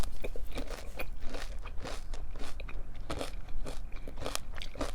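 Crunchy pumpkin-flavored cereal chewed up close, with loud repeated crisp crunches and bites in an uneven rhythm, alone with no talk.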